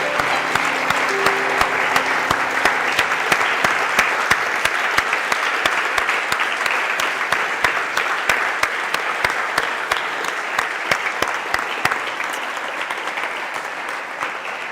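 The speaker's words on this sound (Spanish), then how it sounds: "Démosle un aplauso al Señor" Sustained applause from a gathering of young people in a church, dense and steady for the whole stretch with sharp hand claps throughout, fading slightly toward the end; faint musical tones linger beneath at the start.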